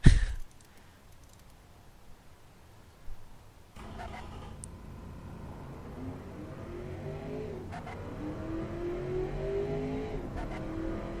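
A 1995 ESE Conqueror Mk II car engine in the Automation game, after a soft click it settles into a steady, muted drone that slowly builds as the revs rise, heard alone with no talking.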